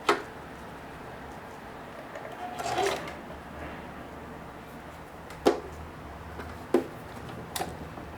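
A sewing machine makes a short, slow burst of lock-stitching through denim in the middle, surrounded by quiet room tone and a few sharp clicks and knocks from handling the fabric and machine.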